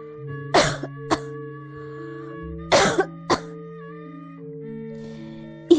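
Coughing from incense smoke: two clusters of throaty coughs, each a strong hack followed by a shorter one, sound close and loud over a sustained soft musical drone.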